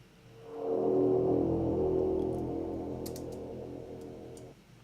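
High-pass filter sweep automated on a synth in the Propellerhead Reason rack: a loud sustained tone that swells in, holds, then slowly thins and fades before cutting off, with a few faint clicks near the end.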